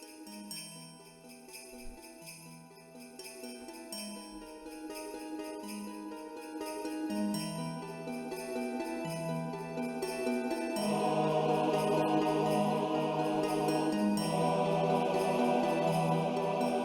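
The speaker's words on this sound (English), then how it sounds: "it's like a combination of the snow song and the overcast song" Soft, gentle Animal Crossing music for snowy overcast weather, with chiming bell-like tones over a low, mellow backing, calm and wintry, gradually swelling slightly louder partway through.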